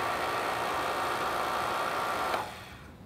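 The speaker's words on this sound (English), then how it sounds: "you can tell by the noise, it's a very quiet pressure washer" A SunJoe SPX-9 electric pressure washer runs with a steady, fairly quiet whirring hiss, then cuts off abruptly near the end, leaving low room noise.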